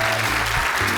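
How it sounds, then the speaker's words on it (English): Loud, steady applause with cheering from a crowd at a State of the City event, with a low hum underneath. "You have a strong cheering section."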